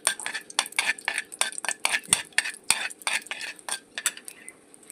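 Mustard seeds spluttering in hot oil while tempering a chutney, giving a dense run of sharp, close crackling pops at a fairly steady rhythm for several seconds, with no talking.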